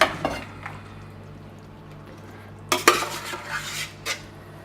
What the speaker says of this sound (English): I put this in a nice big dish.